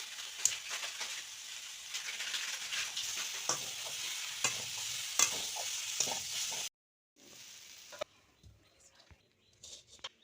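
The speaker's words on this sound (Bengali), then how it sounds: "এই তেলে ইঁচড়টা আর আলুটা একটু ভেজে নেব।" Jackfruit and potato frying in hot oil in a wok, with a steady close sizzle and scraping stirs for about seven seconds, then a brief break and quieter scattered clinks and crackles.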